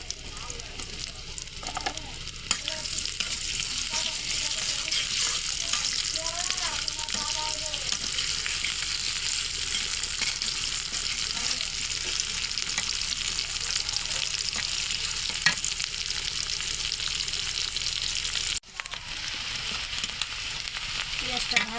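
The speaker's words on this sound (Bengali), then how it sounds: "পেঁয়াজটা ভাজা হয়ে গেছে।" Chopped onions fry in plenty of hot oil in a wok for a vegetable bhaji, with a steady loud sizzle and occasional scraping stirs running continuously, briefly cutting out near the end before resuming.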